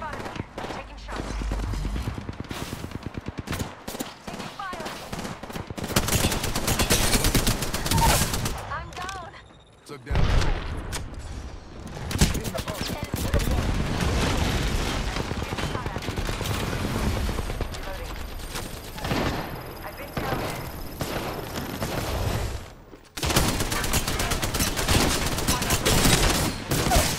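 Gunfire crackles in a battle royale video game, repeated bursts of automatic shots and impacts rising and falling over long stretches, loud and close, with game voices talking in places.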